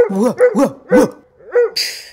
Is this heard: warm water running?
no